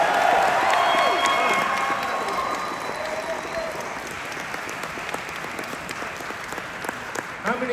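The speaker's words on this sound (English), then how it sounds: "Let's have another round of applause for John Carpenter." An audience at a Halloween panel claps and cheers for John Carpenter, a loud, dense burst of applause that gradually eases but keeps going, with a few shouts mixed in.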